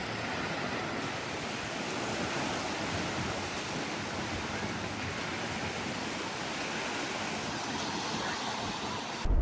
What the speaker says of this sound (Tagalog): Yan ang mga alon.